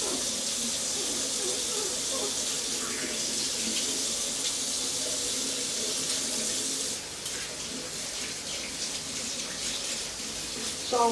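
Warm tap water runs steadily into a kitchen sink while soapy dishes are rinsed, a loud close hiss and splash with a brief shift in tone partway through.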